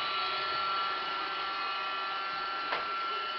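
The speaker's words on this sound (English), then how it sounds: "Go get the Roomba." Roomba robot vacuum cleaner running nearby with a steady whirring hum and a brief bump near the end.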